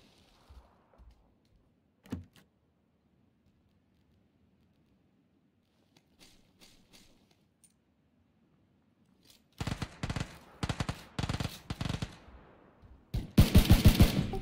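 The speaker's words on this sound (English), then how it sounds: "Hey, he's shooting in my building." Automatic gunfire in an online shooter game: a few faint, scattered shots first, then loud, close, rapid bursts of machine-gun fire toward the end.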